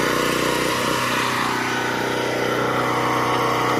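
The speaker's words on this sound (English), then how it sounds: "Breaking in the engine. I'm going to run it for a couple of hours." A Craftsman 4550 watt portable generator engine runs during break-in, a loud, steady, close mechanical drone with an even buzzing rhythm that holds constant throughout and no talk.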